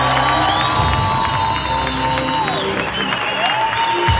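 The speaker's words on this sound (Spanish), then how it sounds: "Fuerte, fuerte el aplauso" A crowd at a New Jersey event applauds loudly and cheers, with sustained clapping, whoops and shouts, while a musical tone or voice runs underneath throughout.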